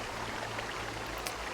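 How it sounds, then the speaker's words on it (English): A small stream running into a mountainside in the Pillars of Eternity video game, heard as a soft, continuous wash of flowing water with faint droplet-like ticks, steady and fairly quiet. "You hear running water and see a small stream that carves its way into the mountain."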